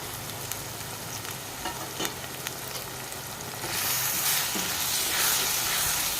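Chili and coriander powder being stirred into softened tomatoes frying in a pan, giving a steady close sizzle with scraping strokes. The hiss swells louder and brighter partway through as the mixture is turned.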